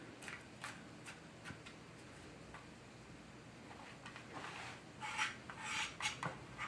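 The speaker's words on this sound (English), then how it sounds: "So, I'll just pass this through, rough chop." Vegetables are rough chopped with a knife on a board in a home kitchen, faint scraping and tapping strokes that grow busier and louder toward the end.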